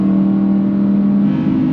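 An Audi R8 RWD Performance pulls hard in fourth gear on the Autobahn, its engine note droning loud and close as a steady rising tone, then dipping briefly at an upshift, with wind and road roar beneath.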